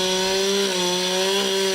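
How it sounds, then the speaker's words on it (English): A chainsaw runs loud and steady, cutting fallen trees after a deadly storm in the Ellijay Mountains of north Georgia, a continuous close engine whine with no pauses. "Chainsaws screamed where trapped families tried to dig each other out of the Ellijay Mountains and start repairs."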